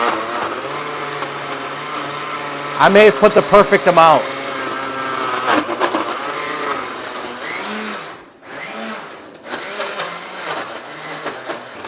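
A blender whirs in short pulsing bursts, then runs with a shifting motor tone while a person talks over it.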